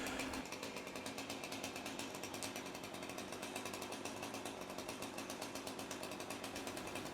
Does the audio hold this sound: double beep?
no